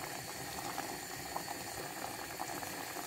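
Beef simmering at a steady boil in a cooking pot, a continuous bubbling and gurgling heard up close with no voices over it.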